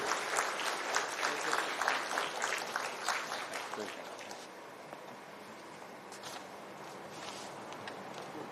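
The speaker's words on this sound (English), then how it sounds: "Huge round of applause, please." An audience at an international summit in Lucknow applauds, a burst of clapping that is brisk at first then thins and fades, fairly distant, with a voice speaking underneath.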